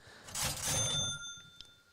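A bell rings with sustained, ringing tones over loud crowd noise at a Phillies–Cubs baseball game in Chicago; a brief sharp ding follows as the crowd quiets.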